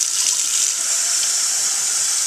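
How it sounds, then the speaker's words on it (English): Tap water gushes steadily over sprouting grains held in a jar with a mesh lid, a continuous close hiss of running water with no voices. "going to just rinse these grains off"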